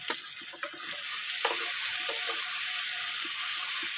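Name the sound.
stirring mashed banana flower and potato in a pan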